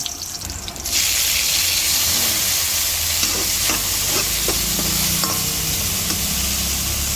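A vegetable dish with tomatoes fries in a pan with a loud, continuous close sizzle, while a utensil stirs it with intermittent scraping taps and no voices.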